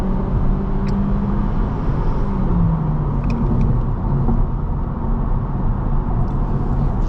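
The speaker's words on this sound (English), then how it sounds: "Now you can hear more of the engine." 2025 Honda Civic Hatchback engine accelerating while driving, a steady low engine rumble and road noise heard from inside the cabin with a faint rising tone.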